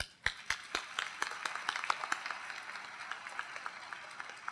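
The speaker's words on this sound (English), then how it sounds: "Please give a big round of applause to Professor Tapia." Applause for Professor Richard Tapia at a 2015 UCLA math commencement, sparse individual claps at first that quickly build into a steady patter of many hands, moderately distant across a large hall.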